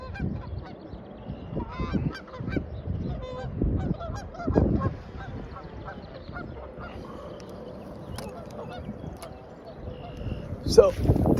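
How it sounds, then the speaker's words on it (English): Several loud honks from geese flying in ring out nearby while fishing, mixed with people talking and some background noise, with the honking clustered early on. "Got a couple geese coming in here."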